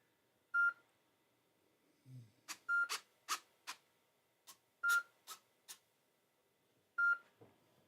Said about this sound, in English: now it's just beeping straight and giving me problems